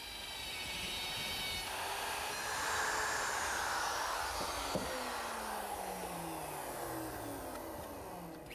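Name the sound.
router with dovetail bit cutting in dovetail jig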